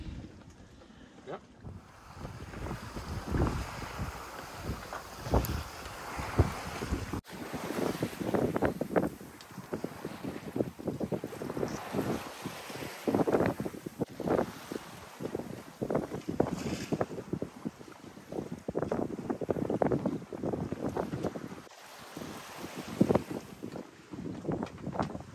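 Sailboat under way in strong wind on the open Atlantic, with steady wind rush across the microphone and splashing water against the hull, loud and continuous throughout with no talking.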